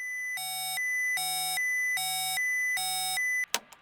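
Four evenly spaced, steady electronic beeps of a spacecraft master alarm sound during a caution and warning check, loud and close, followed by a short click as the tone stops.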